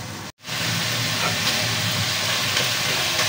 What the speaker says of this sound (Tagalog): Hintayin po natin maluto yung chicken.